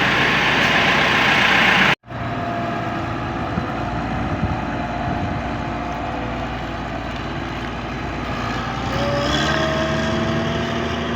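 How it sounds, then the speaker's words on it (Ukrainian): A John Deere combine harvester's engine warms up before sunflower harvesting, giving a loud, steady low diesel rumble after a brief cut, with the revs rising slightly near the end and no talk. "Ух, газу як дає такий звук Джондіровський."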